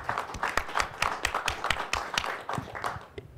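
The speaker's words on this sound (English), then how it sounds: "I'd love to give you a round of applause." Clapping at a Humana talk, a small group applauding with distinct, uneven claps close by, fading out near the end.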